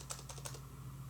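Lenovo Z16 laptop keyboard tapped near the mic: a quick run of about six light, crisp Enter key clicks in an uneven rhythm over a faint steady hum.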